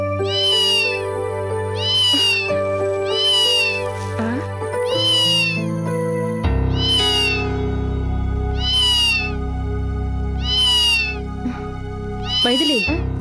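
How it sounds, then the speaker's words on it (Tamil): A cat meows loudly again and again, about eight drawn-out cries in a fairly regular rhythm over a low steady background of music. "பூனை கத்துற சத்தம் கேட்கல?"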